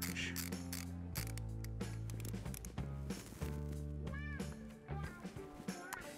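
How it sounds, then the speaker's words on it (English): A 3/16 Allen wrench tightens a Biltwell throttle-by-wire AlumiCore motorcycle grip, giving quiet metallic clicks, ratcheting taps and light scraping in short irregular bursts, close but faint. "Go ahead and install it with your 3/16 Allen wrench."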